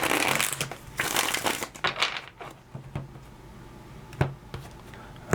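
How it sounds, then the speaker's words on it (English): Tarot cards being shuffled, a burst of dense riffling at the start followed by scattered soft taps and shuffles, close and fairly quiet, with no talking. "let's get one more shuffle"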